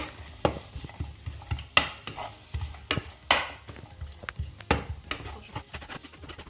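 A spoon stirs courgettes in a pan, with quiet scraping taps and clinks at an uneven pace over a soft sizzle, close up and fairly faint, no voices.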